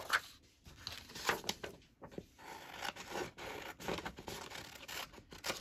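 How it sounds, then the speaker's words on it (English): Scissors cut paper butterflies out of a journal cover sheet, giving a steady run of close, dry snipping and rustling strokes for several seconds with no talking. "Let's cut those out."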